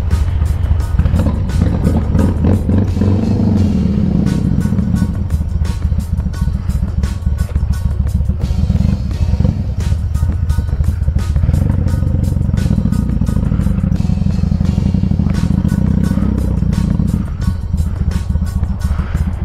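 Motorcycle with wet tires rolling over wet pavement, a steady low engine drone and road rumble running continuously throughout with repeated clicking clatter, loud and close, no voices.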